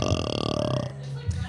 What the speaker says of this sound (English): We're burping.